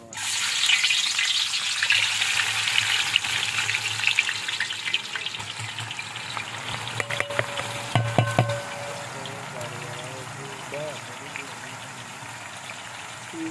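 Onions frying in a pan for chicken pulao give a steady, close sizzle with occasional stirring, while a voice talks over parts of the cooking.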